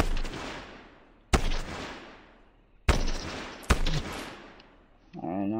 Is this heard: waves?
no